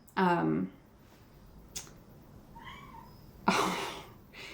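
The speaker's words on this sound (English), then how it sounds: "I can hear it meowing at me from the screen door." A cat meows several times nearby from behind a screen door: a long harmonic meow, a brief chirp, then another drawn-out meow, with quiet pauses between calls.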